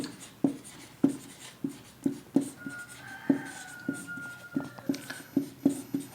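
Chalk or marker strokes on a board during a lecture on state human rights commissions, a series of sharp taps and short scrapes in an irregular rhythm, close and alone.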